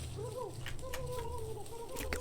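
Gobbler turkeys in the video game Don't Starve Together give a warbling, wavering gobble call that lasts about two seconds over a low background drone, with no voices over it.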